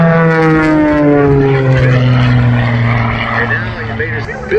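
An aerobatic propeller airplane performs at an air show, its engine droning loudly and steadily with a slowly shifting pitch as it rolls around, with no voices over it.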